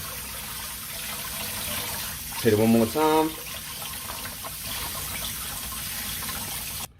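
Cold water runs from a kitchen tap over raw chicken being washed, a soft steady hiss throughout, with a short spoken phrase partway through.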